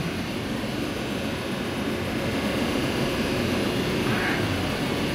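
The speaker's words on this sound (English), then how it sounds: "We got both generators running." Two elevator machine-room generators run together, producing a loud, steady broadband roar with deep rumble that continues unchanged throughout, with no talking.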